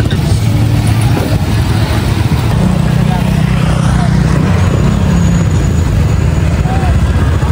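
Motorcycle riding along a road, a steady loud engine drone with wind rumble throughout, the engine pitch shifting slightly as it goes, with a voice talking over it.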